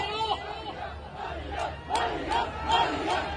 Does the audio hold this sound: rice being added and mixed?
no